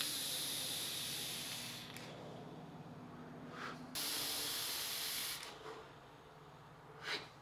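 A vaper pulls hard on a 20g macro coil build with wide open airflow, giving a steady loud hissing draw for about four seconds, a brief break, then a second long hiss and a short exhale-like puff near the end.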